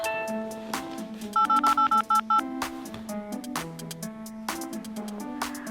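A telephone number being dialed by touch-tone: a quick string of about seven evenly spaced beeps sounds clearly over a steady, tonal musical background.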